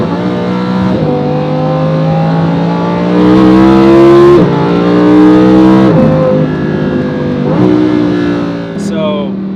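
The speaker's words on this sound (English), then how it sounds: "on sport mode, when you redline, the car will auto shift" Lamborghini Huracan LP580 from 2017 in sport mode, its engine revving hard toward redline with rising pitch, loud and close from inside the cabin, with sharp drops at each automatic upshift before climbing again.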